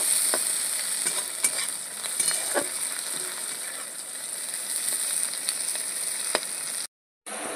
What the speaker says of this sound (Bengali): কুচিয়ে রাখা পেঁয়াজ, পেঁয়াজটা একটু লাল করে ভেজে নেব।